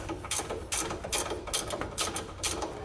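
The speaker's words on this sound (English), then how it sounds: "We're just going to use the factory hardware and that 13mm ratcheting wrench to put the hardware back in." 13mm ratcheting wrench clicking in quick bursts of rapid ratchet strokes while tightening factory heat shield hardware on a 2018 GMC Sierra, close and fairly loud with no talk.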